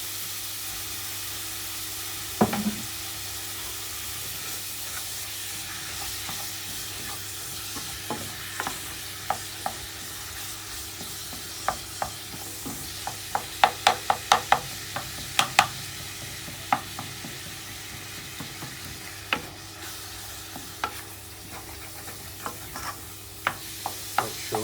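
Meat for a lasagne browns in a pan with a steady sizzle, while a spoon stirs and scrapes with scattered sharp knocks against the pan, growing busier toward the middle.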